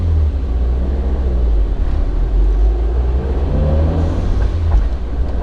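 Mitsubishi Lancer Evolution engine, an Evo X MR or Evo 9 fitted with an ACT twin-disc clutch, running hard on a dyno with a steady, loud low roar and a rising rev sweep partway through, no voices.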